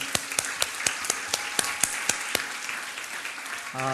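A church congregation claps in a steady, even rhythm, sharp beats repeating several times a second, fairly close, fading into a sustained tone at the end.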